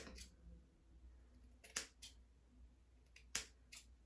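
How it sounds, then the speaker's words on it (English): A few sharp snips of hair scissors cutting straight across hair ends, spaced irregularly with pauses between them, against a quiet low hum. "And then I just take my scissors and go straight across."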